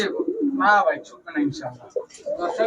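Giribaz highflyer pigeons, among them a black gorra male and khoyra chila birds, give soft low coos close by, mixed with someone talking over them.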